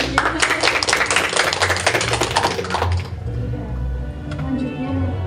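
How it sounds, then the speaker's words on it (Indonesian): Audience clapping at a podcast recording with mothers who won a vegetable cooking contest: a dense, lively burst of hand claps for about three seconds that then breaks off, leaving a low background rumble. "Tepuk tangan ya sekarang."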